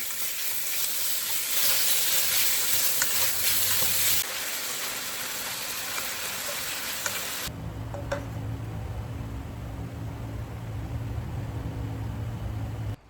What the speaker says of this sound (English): my marinated beef. Ooh. And stir fry.